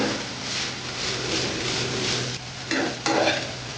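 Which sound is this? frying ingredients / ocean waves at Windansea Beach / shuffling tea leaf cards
frying ingredients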